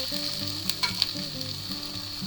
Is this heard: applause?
no